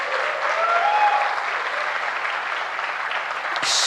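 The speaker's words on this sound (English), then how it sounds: "Please give a round of applause to that most powerful lady." Audience applause at an inspirational speech event, a full, even roar of clapping from a large crowd held steadily throughout, ending with a brief clatter.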